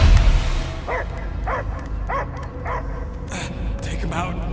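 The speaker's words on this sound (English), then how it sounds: "I hear only barking" In the video game Marvel's Guardians of the Galaxy, a dog gives a series of about six evenly spaced barks and yips over a loud, droning game soundscape.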